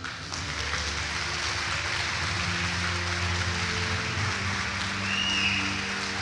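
A church congregation applauds steadily throughout, a dense, even wash of clapping with a low musical hum beneath it and no clear voices on top.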